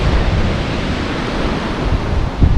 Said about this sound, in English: with the ocean behind me and the wind